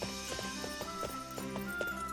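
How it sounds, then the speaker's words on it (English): Horse hooves clip-clopping in the game Fire Emblem Warriors: Three Hopes, a quick regular beat of hoof strikes over steady game music. "Okay, so we're going on an expedition with Marianne with our horses."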